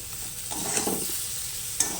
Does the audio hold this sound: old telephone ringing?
no